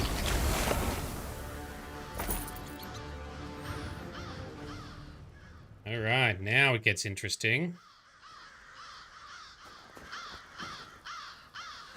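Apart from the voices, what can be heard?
crows cawing in Elder Scrolls Online video game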